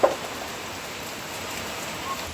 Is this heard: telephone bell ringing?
no